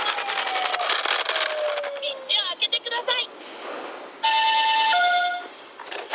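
A toy ambulance minicar with many yellow buttons runs its emergency mode, giving a fluttering electronic siren that breaks into choppy pulses, then a steady stepped two-tone wail; a voice talks over part of it.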